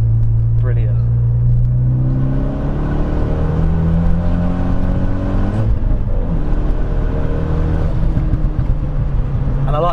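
A forged 330 bhp Renault Megane R26 hot hatch engine drones and climbs through the revs as the car drives, rumbling up and easing off in waves, loud and close, with a voice speaking over it.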